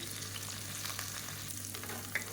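Onions sauté in a pan for a roadside-style Tamil empty salna, giving a continuous close sizzle and crackle with faint stirring scrapes and no talking.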